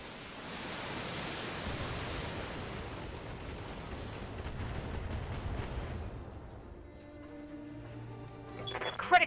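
Artillery bombardment in the Battletech mech game: a long, dense rumbling roar of shelling at moderate level, fading after several seconds into quieter tones and a sharp burst at the end.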